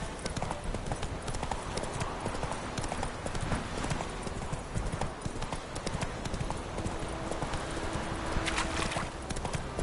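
Hooves of a horse galloping steadily in The Witcher 3, a continuous rapid clip-clop that stays loud and close for the whole stretch, with game ambience underneath.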